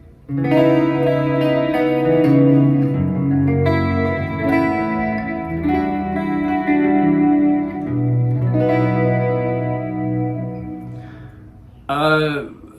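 Clean electric guitar chords and notes on the neck pickup through a quad tap delay at stock settings, repeating echoes trailing behind, smooth and sustained, followed by a short sliding squeal near the end.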